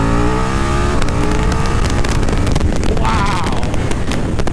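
A KTM Super Duke R motorcycle accelerates hard in second gear from about 40 mph, its engine note rising loudly and steadily under heavy wind rush from riding at speed.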